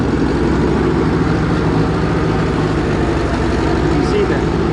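Engine of a Beetle tractor running at raised RPM, a steady, dense low rumble that holds constant and close throughout, with no pauses.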